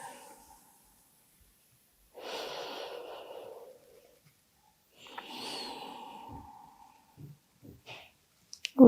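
A slow breath drawn in and let out during a gentle second-trimester prenatal yoga flow, two long, soft, airy breaths separated by quiet, followed by a few small mouth clicks and a close rustle.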